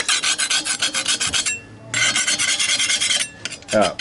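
Scraping an old gasket off the exhaust flange of an R33 GTST: a rapid, loud rhythmic rasping in quick strokes, pausing briefly, then resuming in another burst of harsh scraping.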